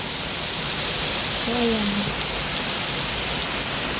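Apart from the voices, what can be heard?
heavy rain during hike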